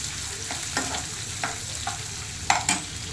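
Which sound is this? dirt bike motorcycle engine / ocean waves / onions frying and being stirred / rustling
onions frying and being stirred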